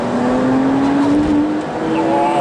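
A 2009 Porsche Boxster 3.4S flat-six engine revs hard in second gear, a loud, close, continuous climbing howl with a brief dip before pulling again, heard alone without talk.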